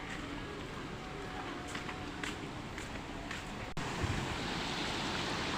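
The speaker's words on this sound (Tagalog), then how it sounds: "Lakas ng baha" Strong floodwater rushes past in a constant, broad roar, close and loud, with the noise swelling a little more heavily in its final seconds.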